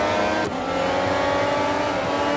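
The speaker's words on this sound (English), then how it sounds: "Gotta love the sound of F14 T" A Ferrari F14 T racing engine in the Real Racing 3 game holds a loud, continuous high-pitched howl, with a brief dip around a gear change before it climbs again.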